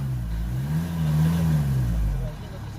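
A Renault Trafic van's engine, with a clogged diesel particulate filter, revs up from idle: a low engine drone rises and holds, then begins to drop, heard close by.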